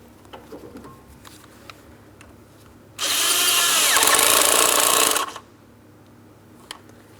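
A hose clamp on the intake of a 2003-2007 Cadillac CTS 3.6L V6 being tightened with a power tool: a loud, steady whirring burst of about two seconds, framed by quiet small clicks and handling noises.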